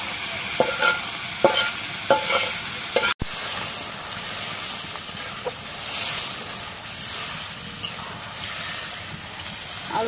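Potatoes are stir-fried with spices in a pan alongside dal, a soft steady sizzle broken by several scraping stirs of the spatula early on, then continuing as a quieter frying hiss with occasional clinks.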